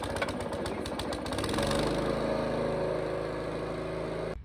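A self-propelled lawn roller's small rope-start engine runs steadily at a close, loud idle-like drone, picking up slightly after the first second before cutting off abruptly near the end.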